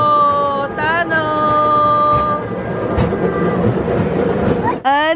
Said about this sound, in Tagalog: Kenneth, do you like the train?